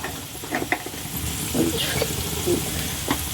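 Potatoes fry in a pan with turmeric, cumin and coriander powder, giving a steady close sizzle broken by scraping stirs and small clinks, with a voice speaking faintly at times.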